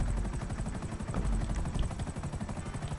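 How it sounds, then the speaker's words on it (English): Helicopter in the video game GTA Online: a dense, steady rotor thump and engine drone that runs loud and unbroken throughout. "Should be a helicopter right here."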